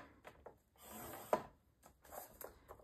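A bone folder or stylus scores paper on a scoring board for a mini album cover, giving a few soft scraping strokes and a sharp click, close and faint, with no talk.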